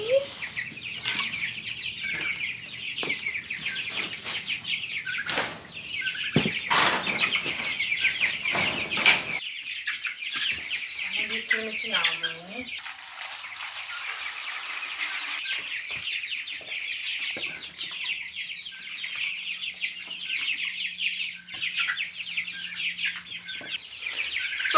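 Meat chickens cluck and squawk amid rustling and wing flaps on a homestead, with a steady insect-like hiss in the background; brief mid-clip calls stand out.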